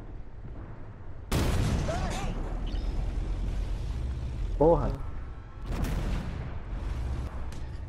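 Tank cannon fire in Armored Warfare with an M60A3, several sharp booming blasts with rumbling tails spread across the clip, mixed with game sounds while a man exclaims loudly.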